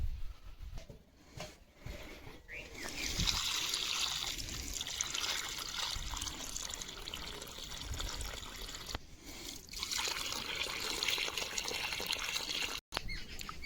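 Water pours steadily into holes dug around newly planted saplings in a large new tree garden, a continuous trickling splash heard outdoors with faint ambient noise.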